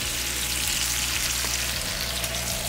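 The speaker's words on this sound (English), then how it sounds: "cooking me a good little steak" A steak frying in a pan gives a constant, dense sizzle, loud and close, with a steady low hum underneath and no talking.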